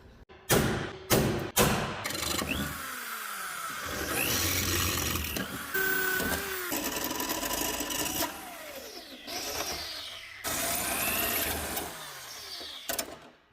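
Rivets being knocked out of a bracket on an Arctic Cat snowmobile tunnel: a few sharp thumps at the start, then sustained grinding and scraping metal work with squeaks and clatter, fairly close and steady.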